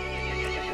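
A horse in Resident Evil Village neighs in one short, close whinny over a steady ambient hum.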